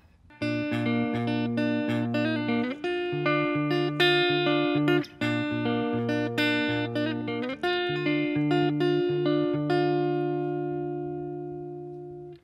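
The intro of a song picked on guitar with all parts combined, arpeggiated notes ringing over a steady bass pattern, close and clear for about twelve seconds with no voice.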